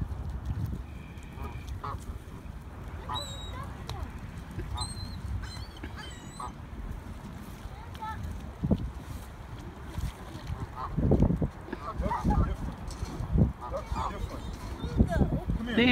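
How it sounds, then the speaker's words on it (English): Ducks honk and squawk in short, scattered calls while people toss them bread, mixed into steady outdoor noise under frequent nearby talk. "They're just feeding them a little bit of bread."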